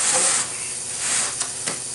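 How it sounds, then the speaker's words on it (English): A steady aerosol hiss of carb cleaner spraying onto a 6.2L Detroit diesel engine runs throughout, close and fairly loud, with two brief sharper bursts near the end. "some carb spray and some towels."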